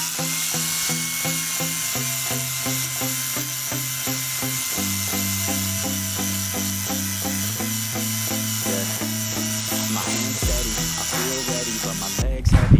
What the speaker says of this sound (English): let's clean up the sawblade with the angle grinder.